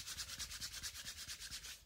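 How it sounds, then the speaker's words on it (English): Hands rubbing oil into a candle for a money spell, a quick steady back-and-forth rubbing rhythm, close and soft, repeating about eight times with no voice. "now we want to rub it into the candle"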